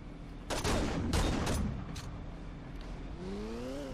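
Video game gunfire in Saints Row 2, a rapid burst of close shots lasting about a second, followed by a lingering vehicle engine drone.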